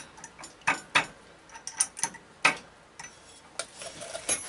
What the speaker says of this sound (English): And tighten this bolt